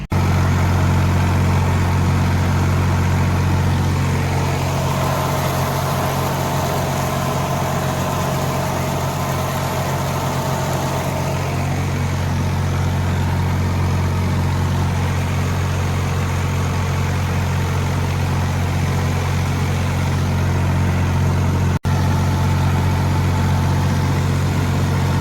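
Ford 3910 tractor with a small drum mower attached runs steadily for the whole stretch, a loud continuous diesel drone with a low, even idle-like rumble and no speech over it.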